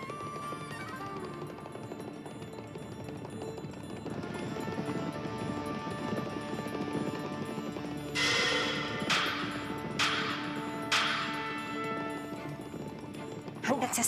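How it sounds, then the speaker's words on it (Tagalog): A powerful racehorse galloping in a dubbed anime, rhythmic clip-clop hoofbeats under a narrating voice, with sharp cracking impacts toward the end. "ang malakas at makapangyarihang tunog ng pagtakbo ni Cascade"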